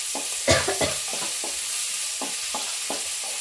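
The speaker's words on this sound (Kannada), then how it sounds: "ಕಲರ್ ಸ್ವಲ್ಪ ಚೇಂಜ್ ಆಗೋವರೆಗೂ ಫ್ರೈ ಮಾಡ್ಕೊಳ್ಳೋಣ ಫ್ರೆಂಡ್ಸ್" Onions frying with salt in a pan give a continuous bright sizzle, with a series of stirring scrapes and knocks from a spatula at irregular intervals, close by.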